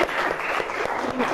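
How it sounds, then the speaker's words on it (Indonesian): A short, brief burst of applause for a young woman named Jihan from a group at a religious class, a quick scatter of clapping hands at moderate level with no talk. "Tepuk tangan untuk Mbak Jihan"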